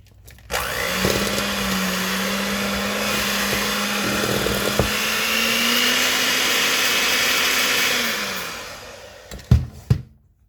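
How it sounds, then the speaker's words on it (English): An electric hand mixer whirs through peanut butter cookie dough with a steady motor whine that starts abruptly, holds for several seconds, then winds down and stops, followed by a few sharp knocks. "Mr. Mixer's going to mix everything up"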